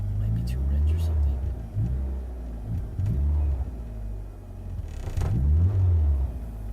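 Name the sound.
98 Eclipse GST engine revving and stumbling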